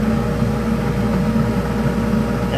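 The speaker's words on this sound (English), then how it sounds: "We're turning at 2670 RPMs, and we're gonna make it happen." A lathe turning abalone at 2670 RPM gives off a steady, even mechanical hum with a low droning tone, continuous and unbroken throughout.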